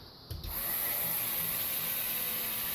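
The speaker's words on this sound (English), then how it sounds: "That's the pump testing." Pump on an auto seeker probe reeling system running a test. After a brief click it starts up into a steady, loud, high-pitched motorized whine that holds constant, with no voices.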